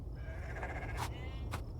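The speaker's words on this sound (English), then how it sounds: "We have 6 sheep." Sheep on a farm in the video game Farm Together 2 bleat in short, nasal cries, two distinct calls over a steady background hum.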